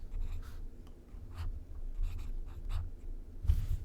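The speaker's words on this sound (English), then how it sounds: "Let me just write down the numbers." A pen writing numbers by hand on paper, soft scratchy strokes in short separate bursts, quiet and close, with no talking.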